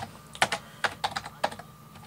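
Keys clatter on a computer keyboard at a Windows command prompt, a quick run of sharp, uneven taps with short pauses between bursts, close and clear over a faint steady hum.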